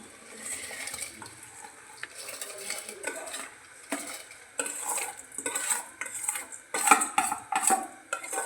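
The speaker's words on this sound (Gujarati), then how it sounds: "હવે આપણે નાખી દઈશું એમાં ચોખાની દાળ." Rice and lentils are tipped into hot water in a pot, giving soft splashes, scraping and metallic clinks of a spoon against the vessel, fairly quiet and close.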